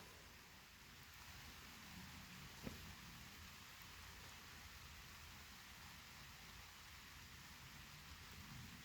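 Steady, soft patter of light rain falling on surfaces, a faint continuous hiss with one brief tap near the start.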